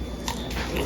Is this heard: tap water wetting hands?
no